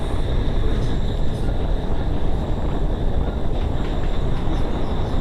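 Circar Express train crossing a small bridge between Kakinada Town and Vijayawada, a loud, dense continuous rumble and rattle of wheels that stays steady throughout, with no speech.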